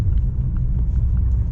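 Steady low rumble of a Peugeot 406 coupé Pininfarina engine pulling smoothly at low revs in fifth gear, heard from inside the car, constant and fairly loud with no talk.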